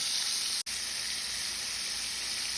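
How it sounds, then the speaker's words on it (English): Beef stew meat pieces sear in a hot skillet with a steady, close sizzle and hiss, interrupted by a single brief cut of silence before the frying resumes. "this is my first batch that I'm frying"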